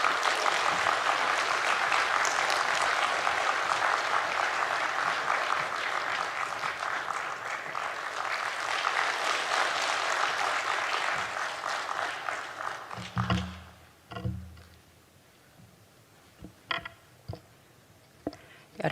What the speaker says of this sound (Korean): 네, 뜨거운 박수로 환영하겠습니다.